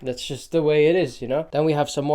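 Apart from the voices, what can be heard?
No everyday noise stands out behind the speech.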